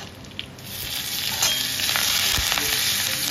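Mustard seeds, cumin, dried chillies and curry leaves sizzle in hot ghee for a tadka, a loud, close, rising crackle with sharp pops throughout and no talking.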